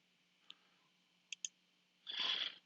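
A few sharp, isolated mouse clicks spaced apart in a quiet room, followed by a short louder rustling burst near the end.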